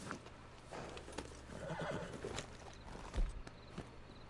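A horse whinnies and shifts its hooves in Red Dead Redemption II, with soft clopping steps and rustling at moderate distance and a louder thump near the end, with no talking.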